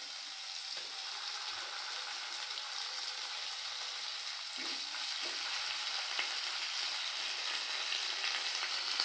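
Chopped tomato and ginger-cumin paste sizzle steadily in hot oil for a Bengali fish curry, a dense continuous frying hiss with occasional stirring scrapes, close and loud throughout with no talking.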